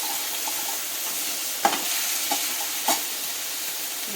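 Whole fenugreek leaves sauté in a hot pan with a steady, close sizzle and a few soft stirring knocks scattered across it.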